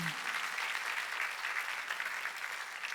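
A church congregation at a Wednesday worship service applauds in a dense, sustained burst of clapping that fills the room, loud and even throughout.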